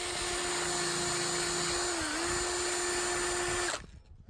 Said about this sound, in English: A wheel which gets all the remnants of glue off but doesn't damage the chrome